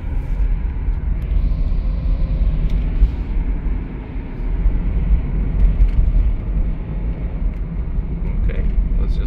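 A used Honda CR-V on the road, its engine and tire rumble a steady low drone inside the cabin with a brief rise partway through.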